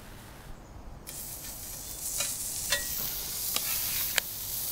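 Burgers sizzle as they are set down inside an Ooni Koda 16 outdoor pizza oven, with a steady frying hiss broken by several sharp crackling pops.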